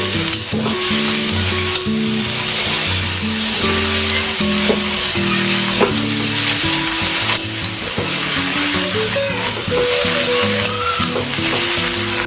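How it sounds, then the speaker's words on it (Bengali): Loud, continuous sizzling from a hot pan as komli and pumpkin greens are stirred and tossed, with repeated scraping and clatter of a utensil. "বড়িয়া করে নাড়াচাড়া করতে হবে"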